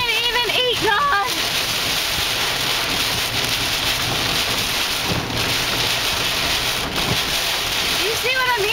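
Heavy rain pours in a dense, constant roar at a beach with waves, under wind buffeting the microphone, while people talk over it briefly at the start and end.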